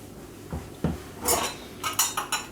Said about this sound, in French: Je les mélange et je dispose sur mon bavarois.